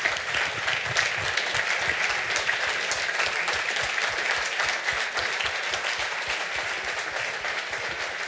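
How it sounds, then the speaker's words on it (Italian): Steady, sustained applause from a crowd, dense clapping continuing evenly for several seconds with no talking over it. "Se vi alzate un attimo per un applauso anche voi"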